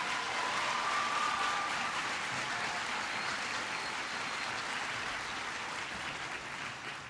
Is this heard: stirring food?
no